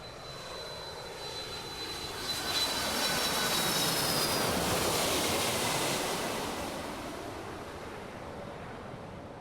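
An airplane flies over in the intro of the ContractVille building game, a broad jet-engine roar that swells to a peak around the middle and slowly fades, blended with a steady wash like ocean surf.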